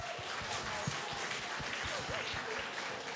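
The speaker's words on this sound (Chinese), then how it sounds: "我们那个掌声鼓励鼓励" Audience applause at a church Christmas evening show, a steady wash of clapping from many hands with some sharper individual claps, filling the whole moment with little else over it.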